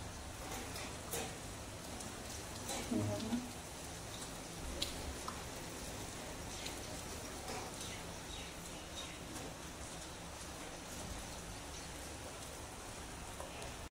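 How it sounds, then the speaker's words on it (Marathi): Heavy rain falls in a steady, dense hiss for the whole stretch, fairly close, with a few faint drips and brief bird-like chirps in the background. "भरपूर जोराचा पाऊस पडतोय।"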